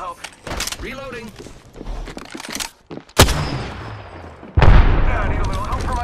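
Gunshots ring out in the video game Apex Legends, several sharp, loud bursts spaced apart with game effects between them, while a voice talks over the action.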